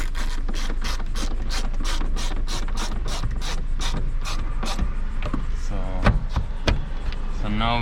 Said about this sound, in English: So now we have our three screws in, we can tighten them up.